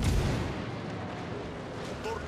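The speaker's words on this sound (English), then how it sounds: "Let's shoot all our guns at once" A warship in World of Warships, the Ignacio Allende, fires all its guns in one salvo, a heavy booming blast that opens loud and rolls off into a long rumbling tail.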